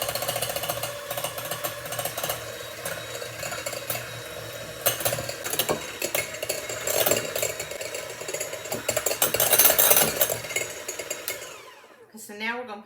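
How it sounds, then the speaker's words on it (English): An electric mixer whips egg whites with sugar and vanilla for meringue, a steady loud mechanical whir with rattling beater noise that swells and changes pitch before cutting off near the end; someone speaks over it. "we're just going to start blending this till it kind of gets fluffy"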